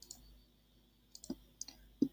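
Computer mouse clicks during a software installation, several short sharp taps spaced irregularly over a quiet background, close and fairly crisp with no voices.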